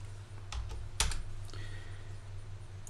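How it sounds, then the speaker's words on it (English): Computer mouse clicks while editing ladder logic in Studio5000 software, a few sharp close clicks spaced apart over a low steady hum, with one louder click near the middle. "Double click, double click, double click."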